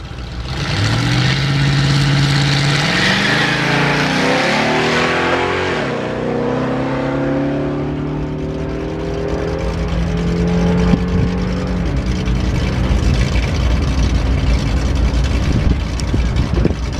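A blue 2024 Chevrolet Corvette and a 1959 Chevrolet drag race at an SCDRA meet. Loud engines roar continuously, their pitch climbing and dropping through repeated gear changes as the cars accelerate down the strip, with no talk.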